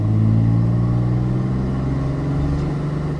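2007 Ram 3500 Mega-Cab dually with a Cummins 5.9 diesel and 6-speed, pulling hard up a highway on-ramp: a loud, steady, low droning engine note with gradually rising pitch, heard from inside the cab.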